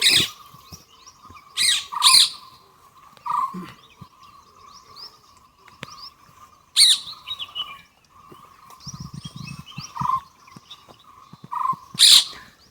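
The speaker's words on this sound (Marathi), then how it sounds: "कानावर असे वेगवेगळ्या पक्ष्यांचे आवाज येतात" Several different birds call in a dense forest: sharp chirps, squawks and bursts of song arrive at irregular intervals over a quiet, steady background.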